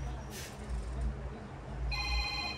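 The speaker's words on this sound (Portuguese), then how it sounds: "telefone, né? Tá tocando." A telephone rings in short repeated bursts, fairly faint, with a brighter electronic ring entering near the end over low background noise.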